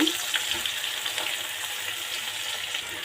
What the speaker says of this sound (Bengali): তো পেঁয়াজটা হালকা করে একটু ভেজে নিচ্ছি